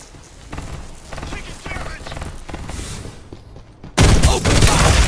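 Gunfire in the PC battle-royale video game Farlight 84, rapid bursts of shots crackling over game sound, then a much louder sustained barrage near the end.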